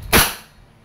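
Wingun 708 CO2 revolver fired in double action: a single sharp, loud pop with a quick attack and a short decaying tail, standing alone.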